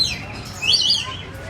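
A small bird gives a couple of brief high chirps near the middle, fairly faint against a low background murmur.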